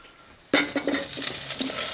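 Onion and hot pepper hit hot oil in a pan for Spanish rice and lentils, setting off a sudden loud sizzle that keeps crackling steadily and close.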